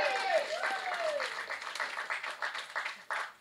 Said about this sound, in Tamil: அதனால் தயவு செஞ்சு நீங்களே ஒரு தடவை கைத்தட்டிடுங்க